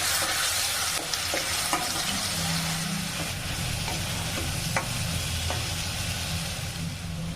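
Ground spice paste with green chilies, a clove and small leaves frying in about three spoons of oil for chicken curry, a continuous close sizzle with occasional stirring scrapes throughout, no talk.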